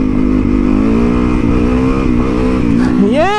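A motorcycle engine revving hard during a power wheelie, a loud, steady droning tone held close by that climbs sharply in a quick rev at the end.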